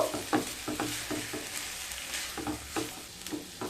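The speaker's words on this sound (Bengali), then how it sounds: "এবার খুব ভালোভাবে মিশিয়ে নেব।" Broken wheat (dalia) and fried vegetables are stirred in a pan for pulao, making soft repeated scraping and shuffling strokes over a faint sizzle, fairly quiet and close, with no speech.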